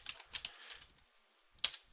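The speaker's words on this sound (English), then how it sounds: "you want to type in Google Analytics" Soft typing on a computer keyboard, a quick scattered run of quiet key taps with one sharper keystroke near the end, close and alone.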